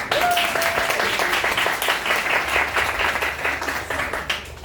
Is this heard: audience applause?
yes